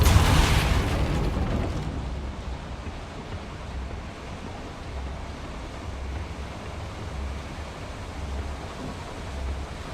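A Depulso spell cast in Hogwarts Legacy lets out a loud burst with a booming whoosh at the start, then fades into a steady rumbling wash of game ambience with soft low thuds.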